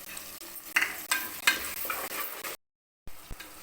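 Onions sautéing in oil with cinnamon, cloves and curry leaves for mutton gravy, close sizzling broken by sharp scrapes and clinks of a ladle stirring, then a brief silence and a few more stirs.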